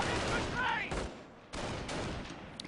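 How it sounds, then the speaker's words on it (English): Artillery firing away in a real-time strategy war game, heard as a few muffled booming bursts with gaps between them, moderately loud amid other battle noise. "We have an on-map artillery firing away."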